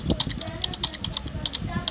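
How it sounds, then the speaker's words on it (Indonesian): Computer keyboard typing in a video game: a quick, uneven run of crisp key clicks, close and fairly light, tapping steadily for two seconds while someone talks faintly underneath. "Nyalakan komputer. Menggunakan komputer."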